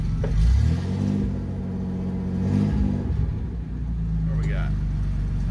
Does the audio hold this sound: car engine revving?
yes